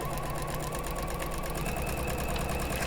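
A sewing machine runs steadily as it stitches through a quilt-as-you-go quilt, producing a continuous, close, even mechanical whir with a rapid rhythmic pulse and no pauses or voices.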